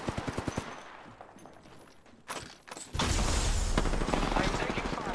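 Video game gunfire striking the player's character, opening with a rapid burst of shots, then a brief clatter and a loud, dense wash of combat noise, close and heavy.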